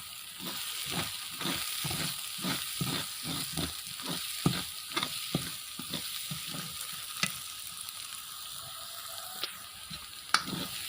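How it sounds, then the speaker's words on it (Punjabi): Garam masala being stirred into palak paneer as it fries in the pan, a steady sizzle under a run of regular spoon scrapes and stirs that slow and thin out toward the end, close and alone with no talk. "ਅਸੀਂ ਮਸਾਲੇ ਨੂੰ ਚੰਗੀ ਤਰ੍ਹਾਂ ਦੇ ਨਾਲ ਮਿਲਾ ਲਵਾਂਗੇ"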